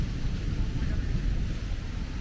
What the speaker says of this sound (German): Jetzt habt ihr den Donner gehört und es fängt an zu regnen.